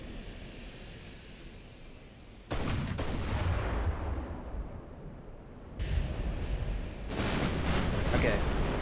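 Battleship turrets firing in Ultimate Admiral: Dreadnoughts, heavy booming salvos in two or three bursts, each with a long rumbling tail, loud and unaccompanied by talk.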